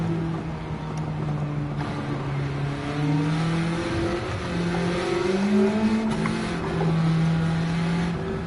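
Fiat 500 engine racing in Gran Turismo 7, a steady droning hum with pitch slowly rising and falling as it holds speed through the run, loud and continuous with no talk.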